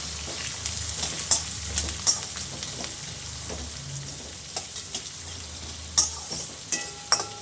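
Onion and curry leaves sauté in a pan with a soft continuous sizzle, while a utensil stirs and scrapes in regular taps and clinks.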